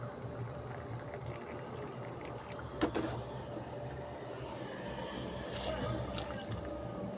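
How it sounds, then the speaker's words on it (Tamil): Water trickles and splashes faintly into a pot of mutton kabsa, a soft steady pour with a brief clink partway through. "இதில் 4 கிளாஸ் தண்ணி ஊற்றலாம்."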